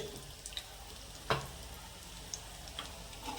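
A pinch of asafoetida drops into hot oil, giving a soft, steady sizzle with a sharp clink near the middle and a few light ticks, close and quiet, with no talking.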